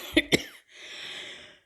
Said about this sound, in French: je tousse un peu, mais rien de grave